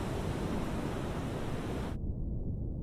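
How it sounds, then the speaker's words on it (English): Underwater water burbling in the game Fear of the Deep, a dense rushing wash that runs steadily for about two seconds and then cuts to a quieter, muffled low murmur. "Water burbling."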